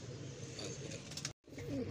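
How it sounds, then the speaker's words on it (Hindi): A pair of old black-faced Cheena pigeons coo softly, low throaty calls that are faint against a background hiss, broken by a brief moment of silence. "पुराने काले मुँह वाले जो चीने कबूतर होते थे ना ये वो वाला पेयर है"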